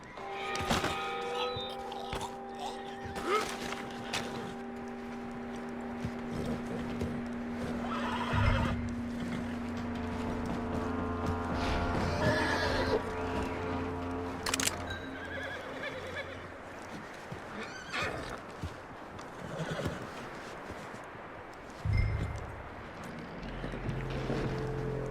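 Horse neighing and clopping hooves in Red Dead Redemption II, outdoors with wind, whinnies rising over a steady ambient bed and occasional louder hoof thumps and snorts, no talk.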